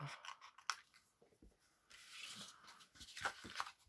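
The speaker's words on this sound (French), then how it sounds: "je coupe au ras du pli" Scissors snip along the fold of a sheet of paper, a few quiet, crisp cuts with soft rubbing in between, heard close and alone.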